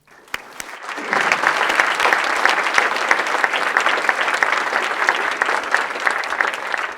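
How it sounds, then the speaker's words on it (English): An audience breaks into sustained applause for three award winners at a college's annual address, the clapping swelling after a second and staying loud and dense throughout. "please help me applaud our 3 award winners."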